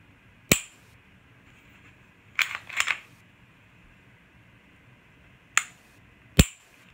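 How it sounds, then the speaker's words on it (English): Trigger of a Canik TP9SF Elite pistol being pulled and reset: a handful of crisp, close clicks, one alone, a tight double-click cluster, then two more spaced apart in a quiet room. "Smooth trigger pull with a shallow reset."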